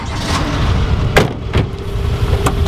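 A Ferrari with a 400-horsepower engine starting up and settling into a loud, rumbling idle close by, with a few sharp transient clicks through the running engine.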